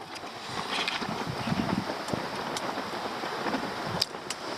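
A strong northeast wind blows across a lakeside camp in Quetico, rushing and gusting steadily with a faint broadband roar and a few sharp knocks.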